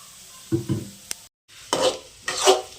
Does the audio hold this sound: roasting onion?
yes